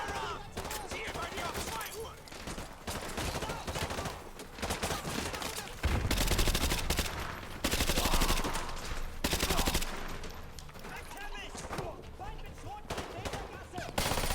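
Gunfire in the video game Call of Duty Modern Warfare 2 Remastered: repeated loud shots and bursts crackle through the stretch, heaviest in the middle, over a dense mix of game sound.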